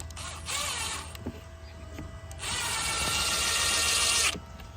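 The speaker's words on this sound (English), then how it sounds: "Just take your gold screws, and one at the end." Gold screws driven into a pre-drilled wooden flat pack hedgehog box with a power drill, two whirring bursts of driving separated by a quieter pause with faint creaks and clicks.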